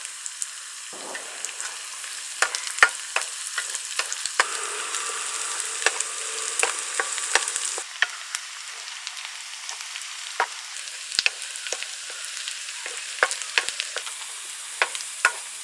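Green chilies and curry leaves frying in a pan for chicken curry, a steady sizzle with scattered crackles and pops, fairly close, with stirring noises and no talk.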